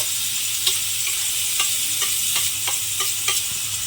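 Grated raw mango hissing in hot oil in a pan for pickle, a steady close sizzle broken by several light scrapes of a spoon as it is stirred, with no talking.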